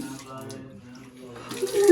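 Water splashing and pouring over a person on a cold day, a short running gush that swells toward the end, with a voice speaking over it.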